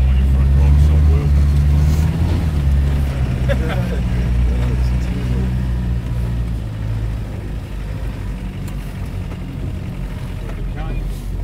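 A vehicle drives through a quarry with a steady, loud engine rumble and crunching over rough ground throughout, close up, with occasional voices.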